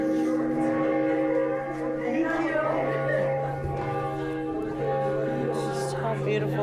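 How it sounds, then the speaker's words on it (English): Church bells ringing at St Martha's church, a sustained, overlapping peal of tolling tones that continues steadily throughout, with people talking over it. "now we hear the church bells"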